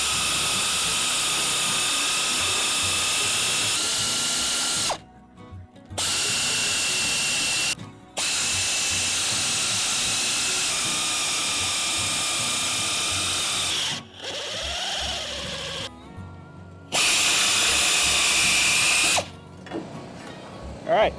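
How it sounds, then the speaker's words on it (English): A nibbler cuts through the steel hood of a 1969 Mustang to fit a shaker scoop, giving loud, harsh buzzing chatter in several close bursts separated by short pauses, with faint background sounds between them. "now, we're gonna very carefully try to use this nibbler"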